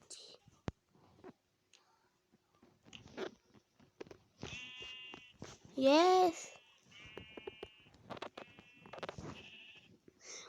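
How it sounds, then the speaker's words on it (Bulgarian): A sheep in the Minecraft video game lets out a short wavering bleat with a crunchy hit alongside, heard amid game effects and someone talking before and after. "Убих овцата."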